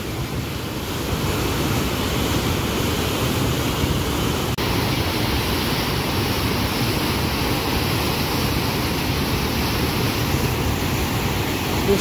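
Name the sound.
fast-flowing river water, Jaldhaka river near Bhutan border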